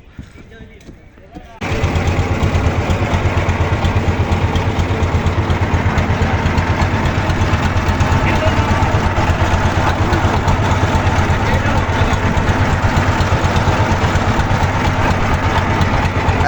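After a brief quiet start, a motorboat engine kicks in on a budget tourist boat trip to Ratargul and Sada Pathor. It then drones loud and steady with a throbbing, vibrating rumble, and voices are faintly audible beneath it.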